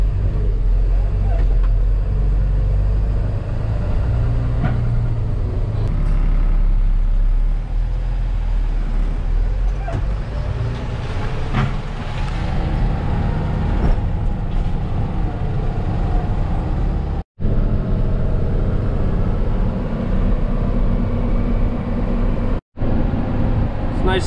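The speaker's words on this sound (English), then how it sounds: "Gotta go weigh in empty and then we'll take this truck back." Empty farm truck driving back from the weigh-in after soybean harvest, a steady low engine and road rumble with cab rattles, continuous and fairly loud, with a couple of brief dropouts.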